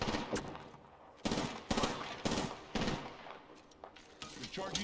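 Loud, close bursts of automatic gunfire in the battle-royale game Apex Legends, several sharp volleys in quick succession with short gaps between them.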